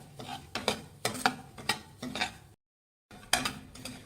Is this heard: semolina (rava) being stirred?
yes